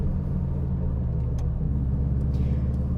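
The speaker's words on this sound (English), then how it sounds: "you've got that characteristic boxer engine rumble, followed by that whoosh of the turbocharger" Steady, close low rumble from the boxer engine of a 2000 Subaru Impreza Turbo AWD, a 208 bhp small car, droning continuously with no talk over it.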